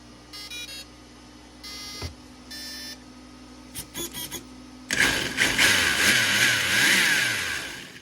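An aftermarket 120A brushless ESC in an RC car gives a series of short electronic power-up beep tones, then a few clicks and a louder burst of motor whine and noise at the end.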